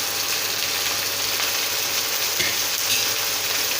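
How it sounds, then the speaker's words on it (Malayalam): Bitter gourd curry being stirred in a pan after a spoonful of turmeric powder goes in, giving a steady, loud frying sizzle with faint scraping throughout, no talking. "ഇട്ട് കൊടുത്ത് ഇനി നന്നായിട്ടൊന്ന് ഇളക്കാം."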